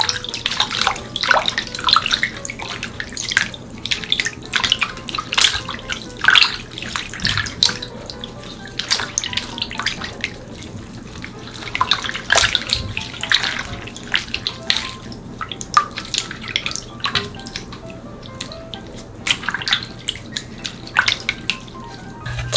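Blanched gomchi (Korean bear's-breath greens) leaves being rinsed in cold water, with splashing, running water and sloshing steadily throughout, close and moderately loud, with occasional drips and clicks and no talk.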